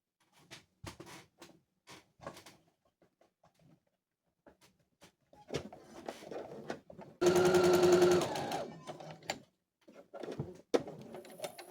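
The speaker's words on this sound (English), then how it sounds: "I'm just going to go and try to get my sleeve hemmed close to the edge" A sewing machine hems a sleeve on a dress made from a thrifted sheet, with a loud sustained burst of stitching lasting about a second, framed by shorter quiet clicks and taps of handling fabric.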